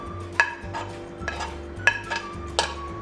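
Boiled cauliflower, carrots, peas and beet being dropped and stirred into a large mixing bowl, four or five soft clattering thumps against a low steady hum.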